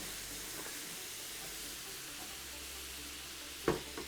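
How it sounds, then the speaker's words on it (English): Tofu frying in a hot pan, a steady soft sizzle and hiss throughout with a brief clatter near the end, no talk. "That's sizzle, baby."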